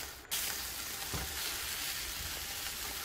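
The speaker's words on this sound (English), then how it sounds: "Just going to give it a stir." Chili simmering in a pot gives a steady, close bubbling sizzle, with a spoon scraping through it around the middle and no voices.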